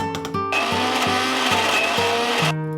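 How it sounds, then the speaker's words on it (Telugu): A kitchen mixer grinder blends telagapindi leaf chutney, starting with a brief whir and then a loud, steady motor whine with a pulsing rhythm, which cuts off sharply at the end. "ఇందులో మనం మగ్గ పెట్టుకున్న ఆకుని తెలగపిండి ఆకు మిశ్రమాన్ని కూడా వేసేసి దీన్ని కూడా మిక్సీ పట్టేసుకుంటే పచ్చడి సిద్ధం అవుతుందండి"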